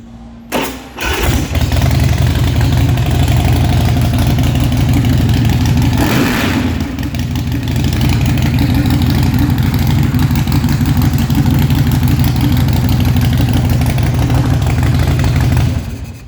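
A 2006 Big Dog Mastiff motorcycle with compression releases cranks briefly and fires up, then settles into a loud, steady, rumbling idle that runs close by and uninterrupted for about fifteen seconds.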